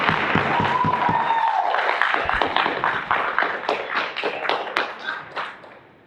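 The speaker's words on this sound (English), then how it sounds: "Please refrain from public displays of applause." Audience applause in a school board meeting room, a dense burst of clapping that thins out into scattered individual claps and fades over several seconds, with a brief voice heard early on.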